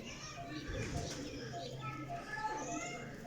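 Pigeons coo softly in a loft of flying pigeons, including a golden-capped bird, with low murmuring calls under nearby voices and background chatter.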